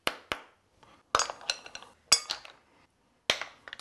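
Mussel shells clink into a salad bowl, a handful of separate sharp clacks, some single and some in quick little clusters, close and crisp with quiet gaps between them.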